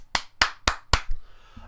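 Four sharp, loud hand claps in an even rhythm ring out close up, then fade into a quiet room with no voices.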